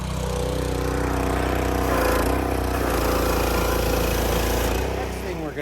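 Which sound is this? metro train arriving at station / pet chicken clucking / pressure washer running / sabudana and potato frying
pressure washer running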